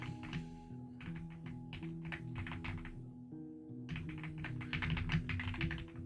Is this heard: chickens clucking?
no